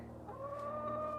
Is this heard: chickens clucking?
yes